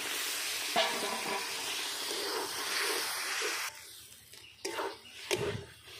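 Frying masala of spices with fried potatoes and eggs for a Bengali egg curry sizzles and steams steadily and loudly, then quiets as water goes in, leaving a few stirring clatters near the end.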